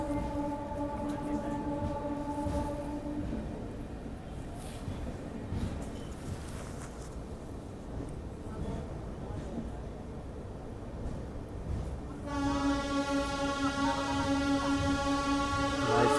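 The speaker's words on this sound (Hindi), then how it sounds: "हमारी गाड़ी रात के 10:12 पे संतरागाछी स्किप कर रही है, धीरे धीरे खूबसूरत तरीके से" Steady rumble of the Duronto Express rolling slowly through the deserted Santragachi station at night, with long sustained horn-like tones at the start and end over continuous rail noise, and someone talking over it.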